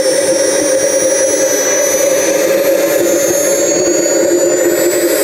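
Turbine of a Hangar 9 Aermacchi MB-339 model jet running on the ground, a loud, steady roar with a constant low drone and a high whine rising slowly in pitch.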